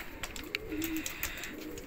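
A red pigeon coos softly in a low, rolling murmur, with faint chirps and background noise around it.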